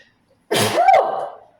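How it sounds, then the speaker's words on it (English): One forceful sneeze up close, a burst of noise trailing into a voiced tail, with silence before it. "Whew, I gotta sneeze."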